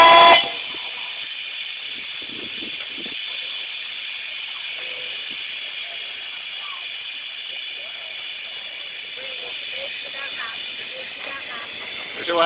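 A miniature railway locomotive sounds a long, steady, high whistle that lasts for most of the passage, fairly loud and continuous, with faint background noise and murmurs beneath.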